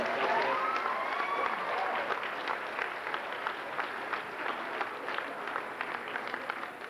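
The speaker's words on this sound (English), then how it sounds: "they need a round of applause for helping us out today" Applause at a D.A.R.E. graduation at Woburn Street School, a crowd of children and adults clapping, loudest at first then tapering into scattered claps with a few faint shouts.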